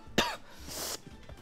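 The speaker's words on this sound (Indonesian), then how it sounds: "Maaf guys ya, ini gue batuk gak dibuat-buat, guys." A single sharp, loud cough bursts out near the mic, followed by a rasping throat-clearing tail, during a gaming session.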